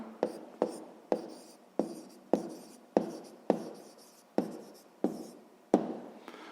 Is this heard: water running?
no